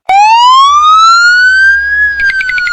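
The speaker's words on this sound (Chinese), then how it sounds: "我是消防员，我要开着消防车去救火。" A toy fire engine plays a loud electronic siren that climbs in one long rising wail, then breaks into a string of quick, high, pulsing beeps, close and with no voices.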